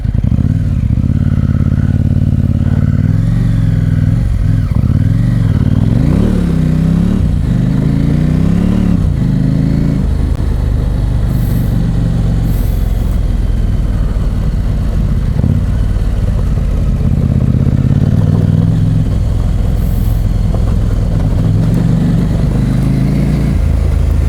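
A KTM 790 Adventure R motorcycle engine runs loud and close on a test ride, with rising and falling revs, gear changes and a constant rumbling drone throughout.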